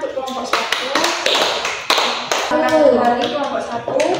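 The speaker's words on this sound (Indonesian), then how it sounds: "Bisa beri tepuk tangan untuk kelompok 1." Fifth-grade primary school pupils in an Indonesian classroom clap for a group, giving a burst of close, uneven handclaps mixed with children's voices.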